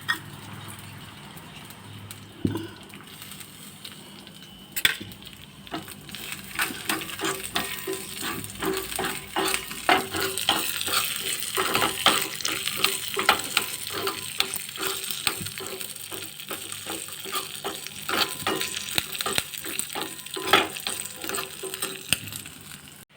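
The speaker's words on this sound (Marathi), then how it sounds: "एक छोटी कढई घ्या, त्याच्यामध्ये थोडं तूप घाला आणि हे ड्रायफ्रूट्स असतात ते त्याच्यात थोडे" Dry fruits fry in ghee in a small kadhai while a sweet coconut rice dish is prepared, giving a steady close sizzle with scattered crackles and pops that builds and holds for over twenty seconds.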